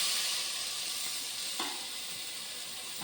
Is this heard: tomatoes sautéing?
yes